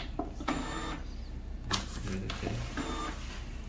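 A Zebra ZD4 barcode label printer feeds after a key press: several short, close mechanical whirring bursts with clicks, steady low room hum underneath.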